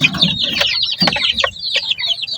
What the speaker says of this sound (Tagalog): Ito yung ating one month old na mga upgraded native chicken.